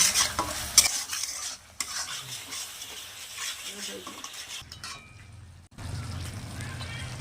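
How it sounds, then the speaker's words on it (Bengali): Soybean curry masala with salt is stirred and fried in a pan: brisk spoon scrapes and knocks sound over a crackling sizzle. It is close-miked and moderately loud, with brief pauses and a short drop in level near the end. "ভালোভাবে কষিয়ে নেব"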